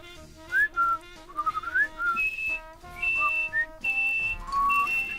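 A person whistles a cheerful tune in clear, sliding melodic phrases, close and alone, with short pauses between notes and no talking.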